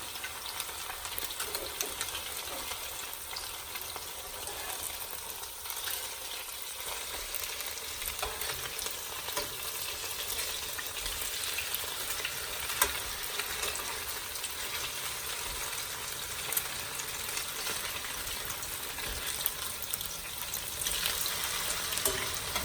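Potato fritters fry in a pan with a steady, close, continuous sizzle and crackle that holds at an even level throughout, with no voices over it.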